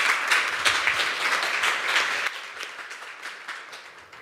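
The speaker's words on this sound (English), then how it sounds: "So another round of applause," An audience claps at a film industry panel at San Sebastian, a brisk round of applause that starts fairly strong and gradually thins and fades over about four seconds.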